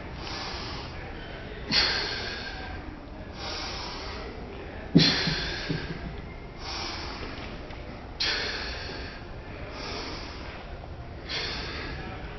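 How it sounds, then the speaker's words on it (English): Heavy breaths repeat in a slow, regular rhythm, each a forceful exhale followed by a quieter pause, close to the listener. "On the way up, you're going to hear me exhale."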